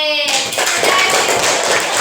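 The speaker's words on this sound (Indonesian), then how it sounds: "Iya, tepuk tangan. Buat Linda yang sudah memberi saran." Classroom applause breaks out after a short voice, a dense burst of clapping from the group that continues steadily to the end.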